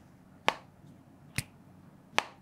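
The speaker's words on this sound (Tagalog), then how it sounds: "Very satisfying yung tunog ng pag-fold at unfold." The hinge of an Infinix Zero Flip phone folds and unfolds, giving three crisp, isolated clicks spaced almost a second apart, close and distinct against a quiet background.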